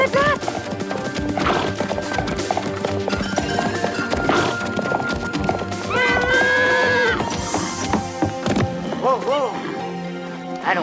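A horse whinnies loudly several times while hooves clip-clop steadily on a hard surface, with people talking over it and music-like tones in the background.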